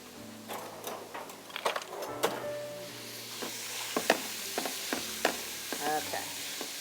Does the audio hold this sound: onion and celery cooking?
yes